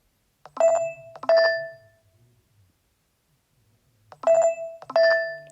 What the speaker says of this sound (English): I'm never gonna hear that ringtone the same ever again.